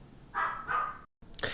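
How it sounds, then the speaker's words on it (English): A pet dog barks indoors in two short, fairly loud bursts, followed by a brief gap and then another sharper yap. "my dog starts barking"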